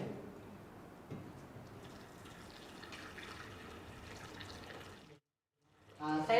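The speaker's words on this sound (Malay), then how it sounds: "Kemudian Asma akan menuangkan air panas ini sedikit demi sedikit." Hot water poured slowly into a container during a school physics demonstration, a soft steady trickle and splash that breaks off briefly near the end before louder handling sounds return.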